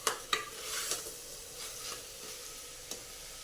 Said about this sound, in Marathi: मसाले भात हा कुकरमध्ये, ओपन कुकरमध्ये खूप छान बनतो.